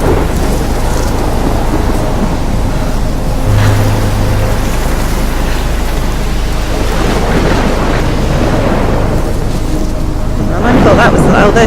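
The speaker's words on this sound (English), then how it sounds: "That is one heck of a storm, isn't it?" Loud storm at a lighthouse in Life Is Strange: dense, steady rain hammering down with rolling thunder rumbles throughout, building to a sharper crack near the end, constant and close with no pause.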